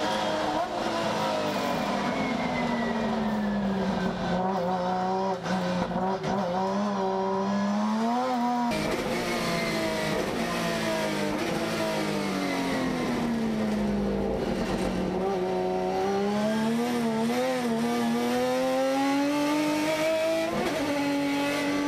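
Top Race touring cars heard from onboard during a race in Buenos Aires, engine note rising and falling through gear changes, loud and continuous for the whole stretch with a brief dip midway.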